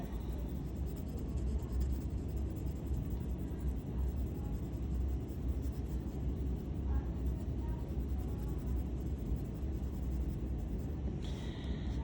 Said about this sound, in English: the only reason why I'm using this lead pencil is because it fits nicer underneath the little setup I've got over here